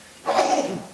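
A single short sneeze bursts out in a quiet council meeting room, close and moderately loud, lasting well under a second.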